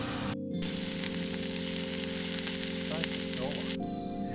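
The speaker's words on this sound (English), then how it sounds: "I'm just frying the razorfish off in some nettle eggs." Razorfish fry in a pan with nettle eggs, giving a loud, steady, close sizzle that runs throughout, broken only by a brief dropout near the start. No one speaks.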